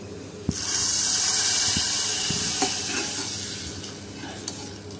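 Hot spice tempering with turmeric and curry leaves hits a potato stew with a sudden loud sizzle that hisses steadily and then slowly fades, broken by a few clinks of a utensil.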